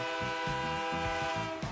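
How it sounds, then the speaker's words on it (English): A train horn sounds in steady tones for under two seconds, loud and sustained with faint rhythmic rumbling beneath, presented as a sound effect. "I'm boarding this train, Harry Ford."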